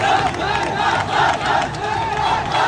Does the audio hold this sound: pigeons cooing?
no